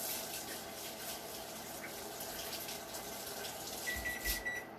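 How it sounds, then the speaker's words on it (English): Hands are washed under a running kitchen tap during gingerbread cookie baking, a steady broadband water rush lasting throughout at moderate level with no talk. "Wash my hands."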